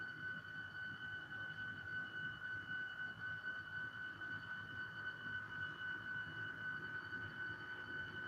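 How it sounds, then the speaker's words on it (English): Powered-on locomotive idling on a model or simulated track, a steady low hum with a persistent high electrical whine, faint and unchanging throughout. "because it is also a brand new locomotive"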